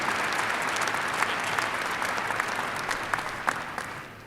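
A large commencement-ceremony audience applauds steadily, a broad wash of many hands heard at moderate distance with a few sharper claps standing out.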